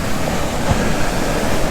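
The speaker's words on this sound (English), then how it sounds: "the waves are really getting bigger now, and the water is coming up here" Ocean surf breaks steadily on the leeward shore of Oahu, Hawaii, as the waves build and the water rises, a dense continuous wash of roaring water, fairly loud and close.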